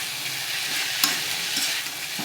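Drumstick leaves frying with garlic in a pan, giving a steady close sizzle with soft scraping stirs and a few sharper clinks of the spatula against the pan.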